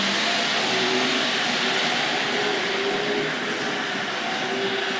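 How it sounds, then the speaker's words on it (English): A Hornby Dublo 2-6-4 tank locomotive on a model railway runs steadily into a station, giving a continuous close, even mechanical whir and rumble with faint tonal hums and no talk. "So let's see if we can bring the Dublo train to a stop in the station."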